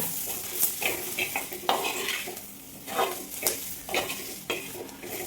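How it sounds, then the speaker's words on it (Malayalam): Masala with chili powder sautéing in a pan for a pearl spot fish dish: steady frying sizzle with repeated scraping stirs and spoon clinks on the pan, close and fairly loud. "നമുക്കിതെല്ലാം കൂടെ നന്നായിട്ടൊന്ന് മൂപ്പിക്കാം."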